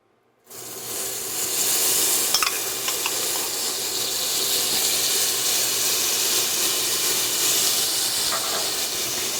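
Minced garlic hitting a hot pan with ground beef sets off a sudden loud, steady sizzle and hiss that carries on continuously, close up, with faint stirring taps and no talking.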